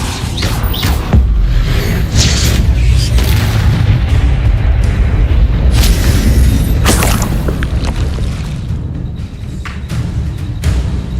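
A Depulso spell blast in Hogwarts Legacy, heard as a run of loud, dense booming impacts and crashing bursts that rumble continuously, with sharper hits near the start and middle before easing slightly toward the end.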